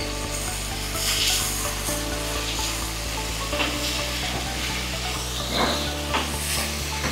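Tomatoes with salt sizzle and fry in a pan while being stirred now and then, a steady close crackle broken by scraping, under a looping musical backing.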